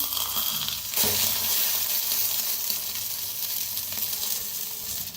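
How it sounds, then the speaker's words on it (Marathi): An egg fries in a hot pan with a steady, loud, close crackling sizzle that continues throughout, with a brief jolt of movement near the start. "तर मस्त आपला अंड भाजायला लागलेला आहे बघा."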